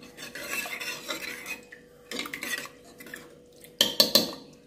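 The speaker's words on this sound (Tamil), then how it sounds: "இதை வந்து மிக்ஸ் பண்ணி விட்ருங்க." A metal spoon stirs lentils, garlic, turmeric and water in a steel pot for sambar, giving scraping swishes in several bursts, ending with sharp clanks against the rim.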